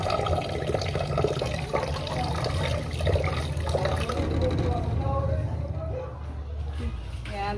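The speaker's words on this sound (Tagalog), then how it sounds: "hugasan na po natin yung binili natin sa Lisari" Tap water runs steadily into a sink as newly bought food from the market is rinsed at home, a continuous splashing trickle heard close by while people talk over it.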